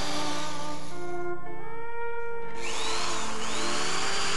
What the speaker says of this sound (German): Da hilft nur eine Bohrmaschine